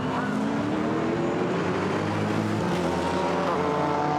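GT4 race cars, Maserati and Chevrolet among them, scream past at Monza with loud, sustained engine roars that shift pitch as they go by. No one speaks over the noise.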